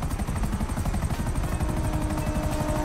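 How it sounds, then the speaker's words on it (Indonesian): A fast helicopter in the video game GTA V roars close and loud, its rotor chop a steady rapid pulse filling the short stretch with no talk. "Itu dia, helikopter yang sangat laju di situ."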